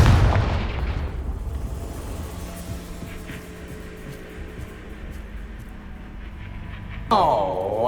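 Confringo blasting spell in Hogwarts Legacy on PS5 hits with a loud booming explosion that rumbles and fades over several seconds, then a sharp magical whoosh bursts in near the end.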